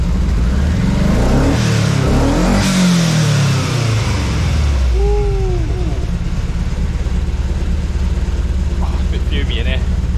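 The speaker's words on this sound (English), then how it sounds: "Turbo's making all the right noises anyway" Turbocharged car engine revving while parked, a loud rising and falling roar with a turbo whistle and whoosh in the middle, then settling into a steady rumbling idle close by.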